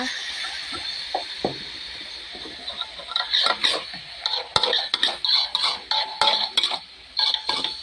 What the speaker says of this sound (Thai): ผัดคลุกเข้าให้เข้ากันนะคะ